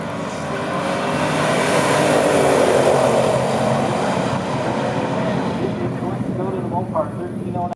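A 1969 Dodge Dart 340 and a 1970 Pontiac GT37 roar down a quarter-mile drag strip, a loud sustained engine drone that fades toward the end as a voice comes in.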